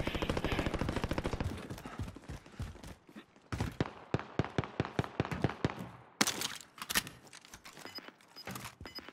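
Assault rifle fire in the Warzone video game: sharp, loud shots in quick bursts with short gaps, then more scattered shots toward the end.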